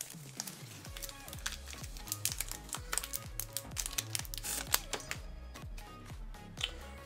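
Crinkling plastic wrapper of a trading card pack being torn open by hand, a close, quiet run of sharp crackles and rustles with irregular bursts throughout.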